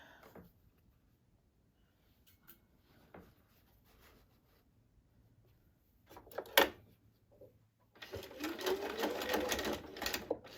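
A sewing machine runs a short tack stitch while making a wreath winter wall hanging: quiet handling and clicks, a brief burst near the middle, then a louder close whirring run of stitching at the end.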